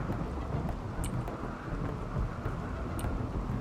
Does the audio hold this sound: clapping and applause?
no